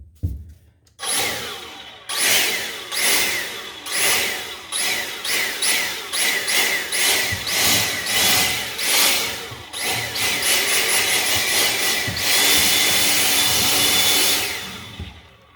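A blower pushes dust out of a cold air return duct in a two-story house, coming in loud, close bursts that rev up and drop repeatedly, then settling into one longer sustained roar before cutting off.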